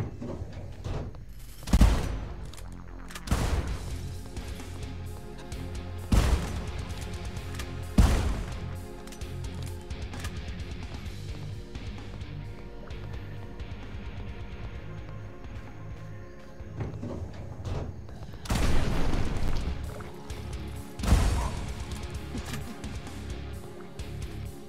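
Burst fire from a bow in the shooter game Nightmare Reaper sounds as several loud, sharp impacts spaced a few seconds apart. A long droning game soundtrack plays underneath.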